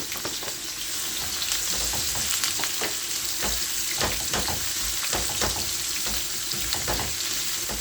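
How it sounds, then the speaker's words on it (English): Seasoning sautés in hot oil in a pan for callaloo rice, crackling and sizzling steadily close up, with scattered sharp pops and a continuous bright fry hiss throughout and no talking. "So what I'm doing here now is to saute my seasoning."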